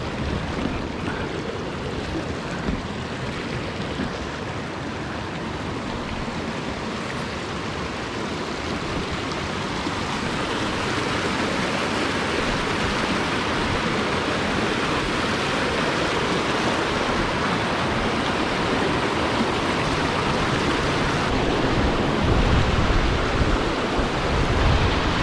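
Dartmoor river rushing over boulders, a steady broadband roar of churning water that stays loud and constant throughout, swelling slightly toward the end, with no voices.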